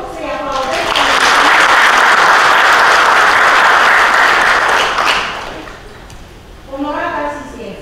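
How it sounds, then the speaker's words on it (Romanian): An audience applauds at an international scientific symposium on advanced biotechnologies, a loud sustained wave of clapping that swells and fades over several seconds, with a voice speaking before and after it. "Vă rog să-i aplaudez."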